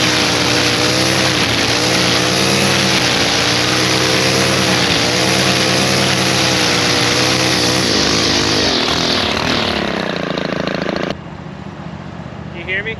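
A lawn mower engine runs steadily and loud at close range with a droning, wavering hum, then drops sharply quieter near the end as it moves off or throttles down.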